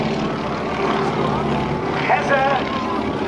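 Aerobatic propeller airplane performing at a naval air station airshow, its engine drone steady and fairly loud throughout, with a slight pitch shift near the end while an announcer talks over it.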